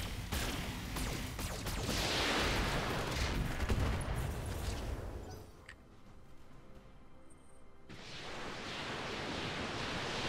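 Mech weapons fire all at once in the game Roguetech, a dense burst of loud blasts and rattling gunfire that fades into a short lull before another heavy wash of noise returns.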